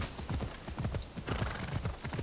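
A horse's hooves clip-clop at a steady trot in Assassin's Creed Odyssey, moderately close and fairly quiet, with rhythmic footfalls running the whole time and no talking.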